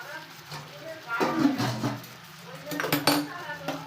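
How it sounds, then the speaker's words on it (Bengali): A spoon clinks and scrapes against a pan as food is stirred, with a few separate metallic knocks, while someone talks over the stirring. "এবার একটু নেড়ে দেবো।"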